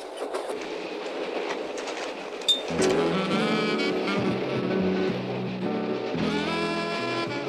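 A speeding express train runs along railway tracks, its steady rumble swelling suddenly and staying loud, with rhythmic track clatter and sustained tonal squeals over the top.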